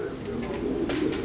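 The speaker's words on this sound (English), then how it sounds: "You can hear the pigeons." Pigeons coo softly in a pet shop, a steady low murmur of several birds close by, with faint voices and room noise mixed in.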